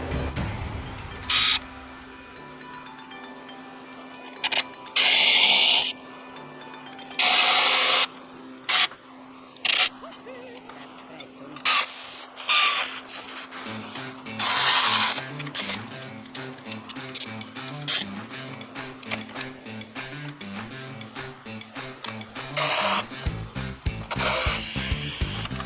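Recovery points being bolted onto an N80 Toyota Hilux, heard as repeated short bursts of a power tool, first spaced out and then coming in quicker, busier runs of metallic fastening noise.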